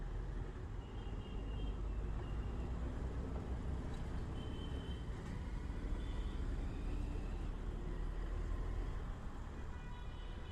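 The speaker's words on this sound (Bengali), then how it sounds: "তো খালি জ্যাম না, ভয়াবহ জ্যাম, মারাত্মক জ্যাম" Morning rush-hour traffic stands jammed at Jahangir Gate in Dhaka, heard from inside an Uber car as a constant low rumble of engines and road noise with faint distant horns.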